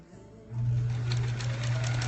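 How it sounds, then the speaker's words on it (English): A sewing machine stitches a scant quarter-inch seam on a quilt block, starting after a brief pause into a steady, close, rapid mechanical hum and whir. "I'm concentrating on that scant quarter and sewing straight"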